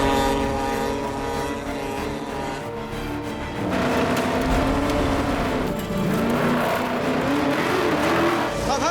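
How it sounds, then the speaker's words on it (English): A car slithers over a fine layer of loose stones on volcanic ash, its engine droning loud and close with a rising, wavering pitch and a continuous gravelly crunch from the tyres, no talk. "The car is sashaying around. It's like a fine layer of stones on volcanic ash"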